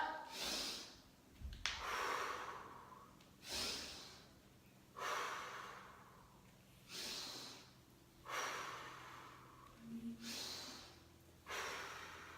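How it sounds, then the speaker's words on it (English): Loud, close exercise breathing, with heavy whooshing exhales alternating with sharp inhales in a steady rhythm of about seven breaths, alone and without talk. "So you're going to hear me breathe loud."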